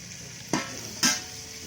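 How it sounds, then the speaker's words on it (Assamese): Onions frying in a pan for chicken pulao, giving a steady soft sizzle broken by two sharp bursts as they are stirred or tossed, with no voices. "এতিয়া পোলাওৰ কাৰণে এইখিনি পিঁয়াজখিনি ভাজি আছোঁ"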